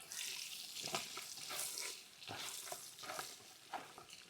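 Garlic and green chilies sizzle in a pan for Kerala-style sardine pickle, a crackling fry broken by repeated scraping strokes of stirring, close and fairly quiet.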